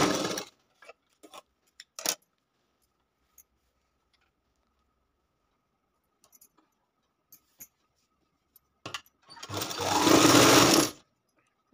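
A sewing machine stitches the lining of a katori blouse in one continuous loud run near the end, after a few scattered clicks and handling taps and long quiet stretches.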